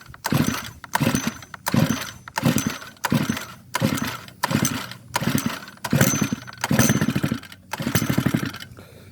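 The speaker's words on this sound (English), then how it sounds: "give her a couple pulls and see if she starts" A Stihl FS111RX four-stroke string trimmer is pull-started: about ten loud, close recoil pulls in a steady rhythm, each a rough, grinding burst as the engine turns over without settling into a run.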